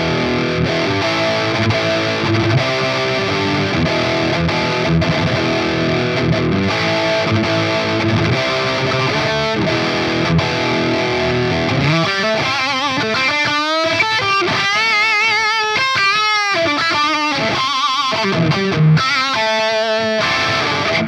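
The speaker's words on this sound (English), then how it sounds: "With the pedal engaged, sounds like this." Electric guitar played through an engaged pedal into a Marshall 1960 cabinet impulse response, thick and distorted like a real amp, sustained chords giving way to a run of bright picked notes, loud and steady.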